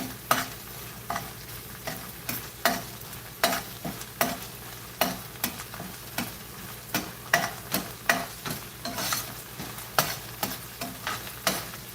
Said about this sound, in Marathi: एक दोन मिनिटं ह्याला छान परतवायची आहे